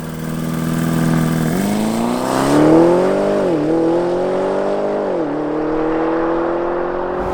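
An Audi RS Q8 SUV accelerates hard uphill, its engine note climbing steadily through the gears with shift dips, loud and near, then carrying on at a strong pull until it eases off.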